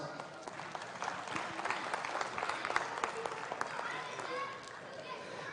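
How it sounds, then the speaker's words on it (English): Audience applause at a Simmental cattle show ring at Expo Boeuf, sustained clapping for several seconds with crowd voices mixed in, swelling and then easing off. "Let's give him a round of applause."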